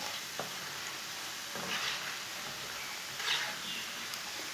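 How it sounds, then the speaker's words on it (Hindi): Banana chips frying in a pan of hot oil, a steady soft sizzle with a few brief louder bursts of crackling as the slices are turned; no talking. "ऐसे इसे उल्टाते हुए पका लेंगे।"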